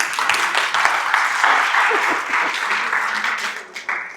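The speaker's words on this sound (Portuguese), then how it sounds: "Oh, uma salva de palmas pro Saulo." A training-class audience applauds a participant named Saulo with a burst of steady group clapping that holds for several seconds and then tapers off unevenly as individual claps trail away.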